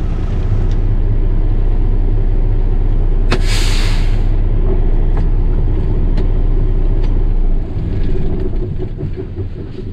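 Parked truck rumbling with a steady low engine drone, a sharp hissing air-brake release bursting out near the middle before the engine note drops off toward the end.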